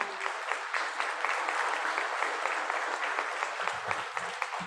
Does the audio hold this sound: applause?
yes